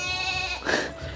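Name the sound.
goat bleating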